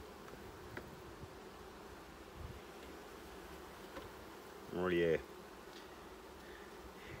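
Honeybee colony drawing out wax in a hive, a faint steady hum with a brief louder buzz of a single bee passing near, and someone speaking softly once.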